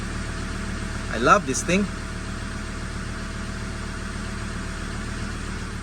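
A Ford Ranger engine idles in a steady, even drone throughout, with a voice briefly speaking over it near the start.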